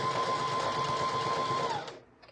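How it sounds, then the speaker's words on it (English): A sewing machine stitches a primitive rustic barrel banner on a wobbly table, running steadily with a whirring mechanical hum and rapid needle clatter, close and moderately loud, then stopping abruptly near the end. "I've got this sewing machine moved and it's making my whole table wobble."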